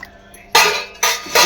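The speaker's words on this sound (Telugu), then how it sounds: "చూడండి కొన్ని వాటర్ వేసేస్తున్నాను" Water poured into a mixer jar holding soaked moong dal, splashing in two loud bursts after a quiet start, with a short third burst at the end.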